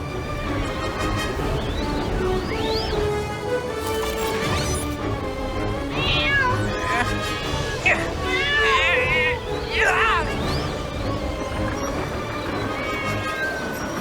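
A cartoon cat meows in a few short rising and falling cries amid busy crashing action, music and voices in a Turbozaurs dinosaur-truck cartoon dubbed in Georgian.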